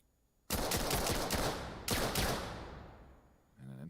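Gunfire in the VR shooter VAIL, aimed at the ground: a sharp burst of rapid shots starts abruptly, a second burst follows soon after, and both fade before a brief electronic tone near the end.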